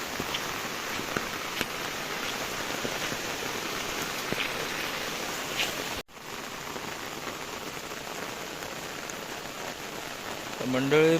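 Heavy rain pours steadily during a stormy walk toward Mandangad, a dense, loud hiss of drops on surfaces throughout, briefly interrupted once midway, with a voice faintly breaking in at the very end.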